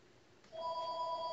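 A landline telephone starts ringing with a steady electronic tone partway through, continuing unbroken to the end against a quiet room background.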